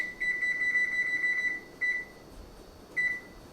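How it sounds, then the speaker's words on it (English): An oven timer buzzer goes off while strawberry keto bread bakes: a thin, steady high-pitched beep sounds for over a second, then two shorter beeps follow at spaced intervals over a quiet kitchen hiss. "the buzzer's going off"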